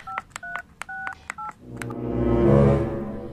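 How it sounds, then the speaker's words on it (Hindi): A telephone keypad dials, giving six short, evenly spaced dual-tone beeps with clicks between them, followed by a swelling electronic ringing tone that rises and fades. "हाँ हाँ, घर में फोन कर देता हूँ।"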